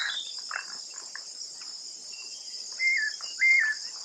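A juvenile bird gives short, thin calls while feeding, a few soft chirps followed by two louder rising notes near the end, all over a constant high drone of insects.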